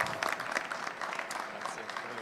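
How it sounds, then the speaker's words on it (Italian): An audience at an industrial automation contest award ceremony applauds a winner, many hands clapping steadily at moderate distance, with faint voices underneath. "e che si merita l'applauso."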